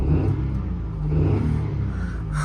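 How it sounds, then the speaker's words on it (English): Nearby, the 3-cylinder engine of a 2009 Citroen C1 VTR hatchback is blipped, giving a steady low, raspy rumble that swells slightly and eases back, with no voices over it. "Let's give it a little rev."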